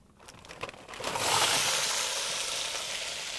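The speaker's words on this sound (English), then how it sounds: "when you hear that sizzling, that's a good thing." Shrimp hit a hot pan and break into a loud, steady sizzle that swells quickly and then holds as they fry, close by with no talk.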